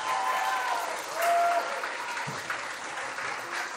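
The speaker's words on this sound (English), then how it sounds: "Let's give all of our senior and parents and grandparents another round of applause" Applause for high school volleyball seniors, their parents and grandparents at a home gym ceremony, a steady round of crowd clapping that swells briefly and then holds at a steady level.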